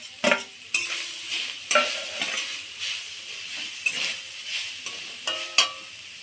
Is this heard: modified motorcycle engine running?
no